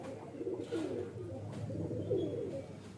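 Pigeons coo softly in low, rolling calls over a steady murmur of background noise, close but subdued, with no talk.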